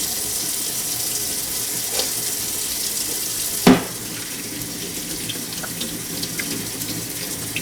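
Kitchen tap running steadily into a sink while dishes and straws are washed, a constant hiss of water with one sharp clink of a dish partway through and faint knocks later.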